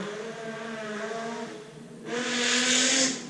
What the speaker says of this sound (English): That's somebody driving by my house.